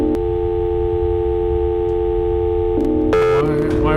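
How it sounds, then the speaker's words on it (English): A steady electronic telephone tone holds for a few seconds, then breaks off abruptly into a voice. "Why are we hearing a dial tone?"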